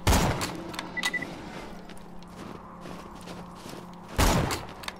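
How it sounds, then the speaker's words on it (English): Fireworks burst in the video game Borderlands 2: a loud crackling blast opens, softer pops and thuds follow over a steady background, and a second strong burst hits near the end. "These fireworks are actually based on the level."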